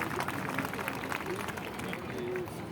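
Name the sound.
applause for Shakuntala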